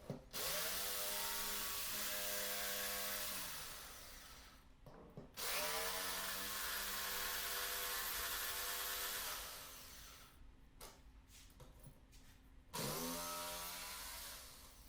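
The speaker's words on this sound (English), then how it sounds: "getting my jigsaw out and starting to actually cut the hole" A jigsaw cuts a hole in a melamine panel in a woodworking shop, running in long loud bursts with a whining motor and rapid blade chatter, broken by short pauses where it stops and restarts.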